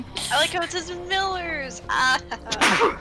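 One sharp sneeze bursts out at the end after a short stretch of animated talk, close and loud, with a quick airy snap.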